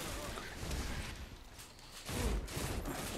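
Gunfire in the video game Destiny 2, a dense, noisy burst of shots with a louder blast near the end, all blending into busy game noise.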